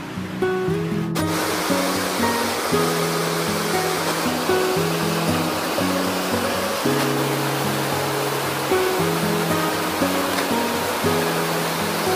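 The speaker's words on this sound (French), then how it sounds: "non loin d'une jolie cascade" Constant roar of a waterfall fills the scene, with soft instrumental music playing over it throughout.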